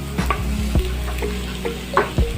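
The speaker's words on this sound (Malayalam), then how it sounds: "നമുക്ക് എല്ലാ മസാലയും ഇതിൻ്റെ എല്ലാ ഭാഗത്തേക്ക് എത്തിക്കുന്ന പോലെ ഒന്ന് ഇളക്കി കൊടുക്കണം" Cooked potato being stirred into masala in a pan, with a few scraping, sizzling strokes of the spoon at an irregular pace, close and moderately loud, and no voices.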